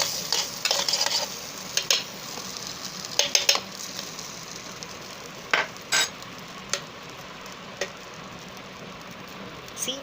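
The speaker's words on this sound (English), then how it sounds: "First I'll have to stir it." Pasta with green chili being stirred inside an electric kettle: scraping, clinking stirs come in irregular bursts over a soft steady sizzle, close and moderately loud, with no talking.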